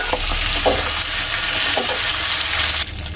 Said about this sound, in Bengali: এরকম করে মাছের মাথা ভেজে নিয়েছি